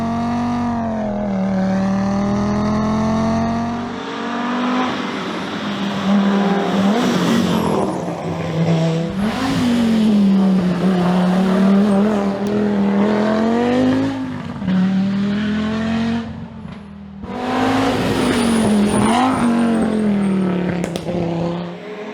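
An Audi S1 Quattro rally car's engine roars and revs loudly, rising and falling with gear changes, while tires squeal and skid on the surface.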